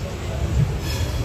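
Train rumbling along the tracks, with steady low mechanical noise and some wheel rattle heard close by, and voices mixed in.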